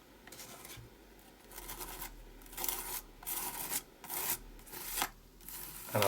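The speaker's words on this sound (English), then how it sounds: "I'm going to take some structure paste on my little spatula, and then just add some of that structure paste through the stencil" Small spatula dragging structure paste across a stencil on an art journal page, a series of soft, close rasping scrapes in uneven strokes that grow slightly louder toward the end.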